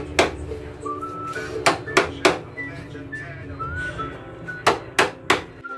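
Wood being worked for stair railings, heard as a series of sharp, irregular hammer-like knocks, some close together, over a faint steady background.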